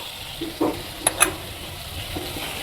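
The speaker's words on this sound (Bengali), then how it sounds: "তার জন্য আমি টমেটোটা দিয়ে দিলাম এই তেলেতে, দিয়ে দিলাম নুন পরিমাণ মতো" Tomato frying in oil with salt and turmeric gives a steady low sizzle, broken by a few short stirring scrapes and light clinks of the pan.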